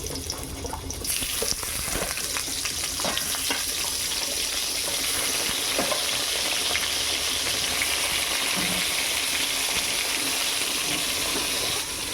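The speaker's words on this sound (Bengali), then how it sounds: "এবারে বেগুনটা ভেজে নেব।" Brinjal frying in oil crackles and hisses nonstop at close range, a thick, even sizzle with scattered pops across the whole stretch, no voices.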